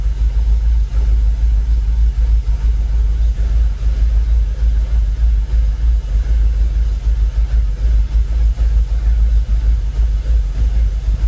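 A Jaguar XKR engine idles at around 800 RPM with the bonnet and boot open, a loud, steady low rumble that runs unbroken and close by, with no voices.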